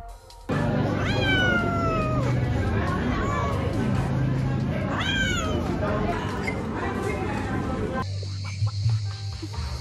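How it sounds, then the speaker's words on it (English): Several cats meow repeatedly at a Greek island taverna, rising cries cutting through a steady hum of outdoor crowd chatter and background noise. "There are many cats in every taverna which are waiting to be pet and fed."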